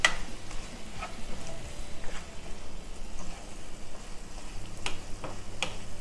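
Chicken fry for Erode Pallipalayam-style cooking being stirred in a pan with coconut, giving a steady soft sizzle broken by scattered scraping and clicking strokes of the spoon, close and moderately quiet, with no talking.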